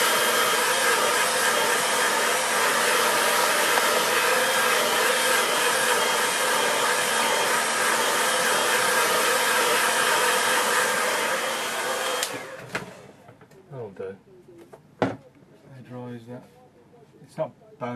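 A hair dryer blows on a watercolour painting with a loud, steady, close roar for about twelve seconds, then cuts off, leaving handling noises and light rustles.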